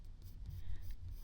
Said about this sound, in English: So I'm just going to pencil that in a little bit.